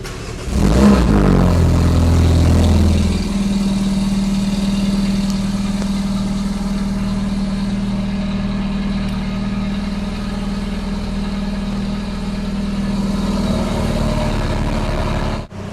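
A Mini Cooper GP cranks and fires up inside a cramped showroom, flaring loudly before settling into a steady, rumbling idle that carries on near and loud for the rest of the clip.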